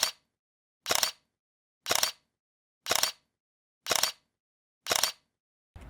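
A Nikon D810 DSLR shutter fires one crisp mechanical clack at a time, six evenly spaced, about one per second, close and clear against silence, with a seventh just starting.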